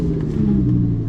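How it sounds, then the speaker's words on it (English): A 2014 Lamborghini Gallardo LP550-2's V10 engine rumbles loudly and steadily up close, a deep continuous drone with a slight rise at the end. "The V10 will roar to life."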